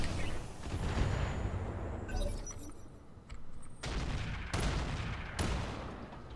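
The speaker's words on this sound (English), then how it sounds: "That was pretty freaking good shooting." Gunfire in the video game Roguepoint, dense bursts of shots and heavy booms overlapping in a steady loud barrage with sharp onsets, mixed with some faint voice chatter.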